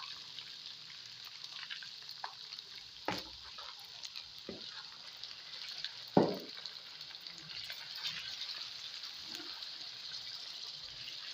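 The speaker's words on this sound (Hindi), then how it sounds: "यहाँ पे इसको अच्छी तरह भूनना है आपने, क्योंकि भूनने से ही चिकन की स्मेल जो है वो ख़त्म होगी" Chicken pieces frying in oil for chicken nihari: a soft, steady sizzling hiss broken by a few sharp spoon knocks and stirring scrapes against the pot, fairly faint, with no voices.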